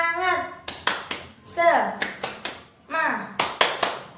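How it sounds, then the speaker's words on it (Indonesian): Children perform a rhythmic cheer clap in a primary classroom, short bursts of sharp claps in a patterned beat alternating with their chanted voices, close and lively. "Tepuk semangat."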